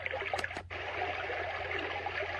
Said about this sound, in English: This is a nice brook sound.